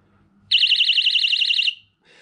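Rockbro electric bicycle horn giving one loud, close, warbling electronic tone that holds for just over a second, then cuts off, with faint background noise around it.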